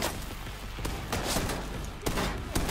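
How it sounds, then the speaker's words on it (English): Gunfire in Division 2 crackles around the player in scattered bursts, with sharp cracks near the start, middle and end over a dense, noisy battle bed; no talk. "Who is shooting me?"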